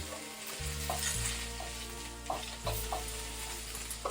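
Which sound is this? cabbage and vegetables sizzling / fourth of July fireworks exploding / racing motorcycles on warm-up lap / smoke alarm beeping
cabbage and vegetables sizzling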